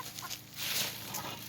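Chickens and hens cluck and scratch about inside a coop as it is raked out, a busy, moderately near flock sound that swells midway and carries on steadily, with no one talking.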